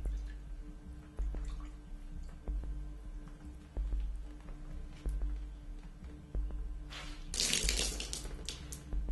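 Splatter effects made by dripping water and throwing rags on a floor: scattered drips and soft wet taps over a low hum, with a louder burst of wet splashing near the end.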